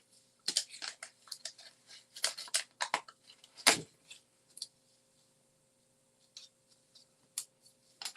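Scissors snip through paper during an accordion-fold craft project, a series of crisp, close cuts in short bursts with pauses between them, no talking.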